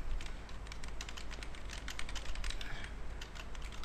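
Fast, continuous typing on a computer keyboard while writing HTML form code, with rapid, close key clicks that run without pause.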